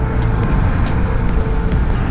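Steady rush-hour road traffic rumbles continuously and loudly nearby, dense low engine drone with faint higher whines and no talk.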